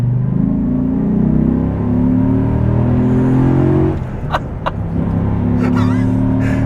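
A Dodge Ram SRT-10 pickup truck's deep, loud engine roar rumbles close by, revving steadily before easing off, with a few faint sharp chirps at the end.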